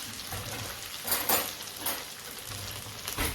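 Chorizo and potatoes cooking in a pan, giving a soft, steady sizzle with a few brief louder crackles and stirring scrapes, faint and close, with no voices.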